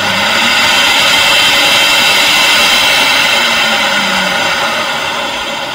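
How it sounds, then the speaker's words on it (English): A record washing machine's vacuum suction is running. It makes a loud, steady, broadband whooshing roar that holds constant and eases off slightly toward the end, with no talk. "Here at the top we activate the suction."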